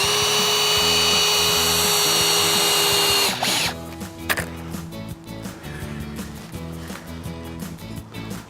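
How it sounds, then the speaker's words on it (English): A coach screw is power-driven at a 45-degree angle into hard ground as a tent peg, a loud steady drill whine for about three seconds, then slower, rougher grinding bursts as the screw bites in. "Again, I've got my coach screw. Put it in at a 45-degree angle."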